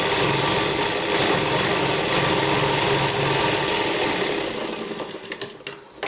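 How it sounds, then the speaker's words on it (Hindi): A sewing machine runs steadily, stitching the slanted side seam of a cotton pregnancy dress with a continuous close whir, then slows and stops in stuttering bursts near the end. "अब साइड की सिलाई तिरछी लगाकर इसको बंद करेंगे एंड तक।"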